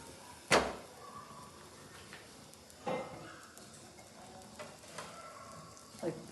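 Dosa batter spread thin on a hot tawa with a little oil over high flame, giving off a steady low sizzle, broken by a sharp close clack and a few softer knocks of a lid or utensil.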